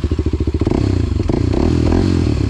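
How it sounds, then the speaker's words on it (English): Close-up motorcycle engine that idles with a rapid, lumpy putter and then revs up into a steadier, louder roar as the ride begins, with some clattering mechanical noise mixed in. "I'm about to ride the only bike here that's not mine"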